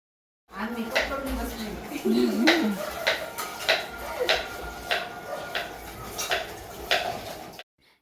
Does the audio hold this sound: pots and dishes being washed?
yes